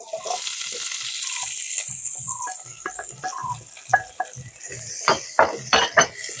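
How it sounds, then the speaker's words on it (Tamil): Chopped onions dropped into hot oil to fry for wheat-flour noodles: a bright, continuous sizzle with clinks and scrapes of a spoon stirring in the pan, loudest at the start and again near the end, with no talking. "இப்போ வந்து எண்ணெய் கொதிச்சிட்டு எங்களுக்கு முதல்ல நாங்கள் வெங்காயத்தை போட்டுக்கொள்வோம்"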